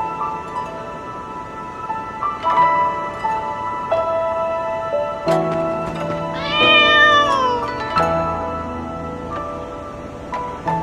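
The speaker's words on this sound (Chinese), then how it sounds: "这里竟然有只小猫，真可爱。" A small cat in the video game Moonlight Blade meows several times, the calls clear and close with one longer, wavering meow in the middle, set over a soft rustling outdoor ambience.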